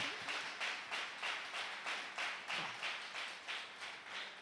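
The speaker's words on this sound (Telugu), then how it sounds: "కొట్రా, చప్పట్లు కొట్రా." A church congregation claps hands together in a steady rhythm, about two claps per second, loud and close with no talking over it.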